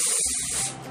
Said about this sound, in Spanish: Y le voy a empezar a colocar helio, con mucho cuidado también.